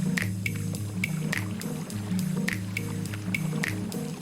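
A canoe glides down the Vézère river, paddle strokes dipping and dripping in a steady rhythm of wet splashes and squishes over a low continuous hum, close and clear.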